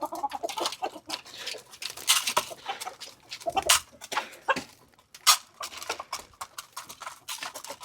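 Pullets and hens clucking and pecking busily while they eat, close by: irregular bursts of clucks and scratchy pecking noises in quick succession, with brief pauses and no talking.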